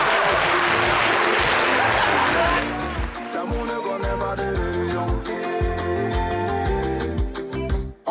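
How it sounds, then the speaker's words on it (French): Studio audience applause on a French TV show, loud dense clapping that fades after a few seconds as music with a steady beat and a voice continue underneath. "On vous a gagné, vous voulez applaudir."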